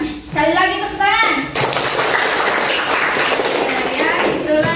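A class of students in an Indonesian school claps together for several seconds, a dense, steady wash of applause that rises sharply after a brief spoken prompt and continues at an even level.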